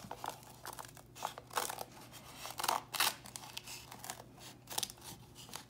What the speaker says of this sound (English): So I'm gonna take the book cover and just cut off the book spine.